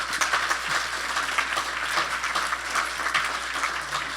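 A crowd applauds steadily, a dense patter of clapping hands that continues evenly throughout.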